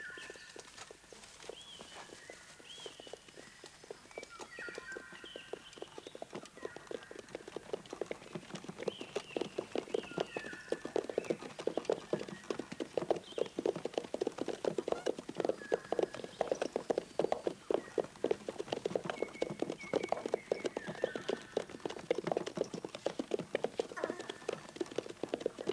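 Horses' hooves clip-clopping on a hard surface as riders approach, a steady rapid patter that starts faint and grows louder and closer, with faint bird calls in the background.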